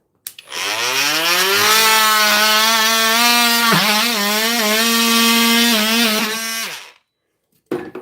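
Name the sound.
plunge cut on wood with a cheap power saw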